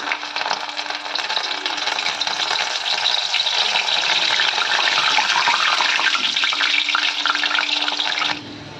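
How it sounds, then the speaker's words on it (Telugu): Chana dal dropped in a strainer into hot oil, frying with a steady, dense, loud sizzle that runs unbroken for about eight seconds before cutting off abruptly; no voices. "ఈ శనగపప్పుని ఈ స్ట్రైనర్లోకి వేసి ఆయిల్లో పెట్టేసుకోవాలి ఈ విధంగా"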